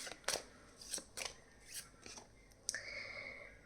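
Tarot cards being shuffled and drawn up close: quiet, sharp riffles and slides arriving in short bursts, with a final card snapping down and no speech.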